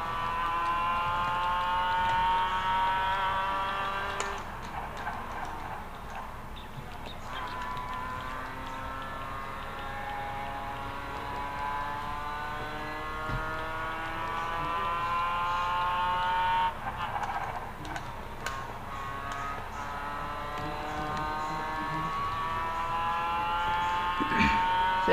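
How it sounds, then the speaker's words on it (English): A Mazda Cup race car at Lime Rock Park climbs through the revs in repeated rising sweeps, with sharp breaks where it downshifts and blips, heard loud from on board for the whole stretch. "Trying to downshift here, try and get a little fast speed here."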